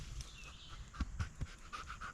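A dog pants in quick, breathy bursts close by, fairly quiet, with a few soft thumps mixed in.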